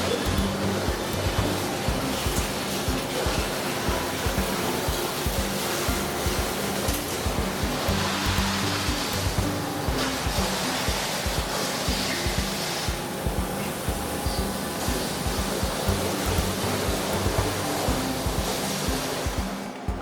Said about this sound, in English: It's milled out of aluminum at a CNC milling machine on the other side of the shop.